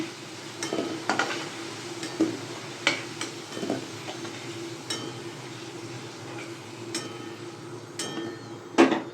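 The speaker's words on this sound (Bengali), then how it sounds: "আমি আলুটা নামিয়ে নিচ্ছি, আলুটা ভাজা হয়ে গেছে।" Fried potatoes are lifted out of a pan with a spatula, giving a series of sharp metal clinks and scrapes at irregular intervals over a faint, steady sizzle, close and fairly quiet.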